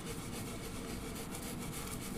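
Oil being rubbed lightly into a guitar fretboard to lift out dirt, giving a steady, dense rubbing and scrubbing noise that runs continuously and alone at low level.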